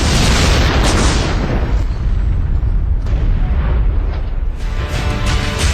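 A loud, sustained explosion blast with a deep, rumbling roar that fills the whole stretch without pause, part of a dramatized surgical strike on a Pakistani army post.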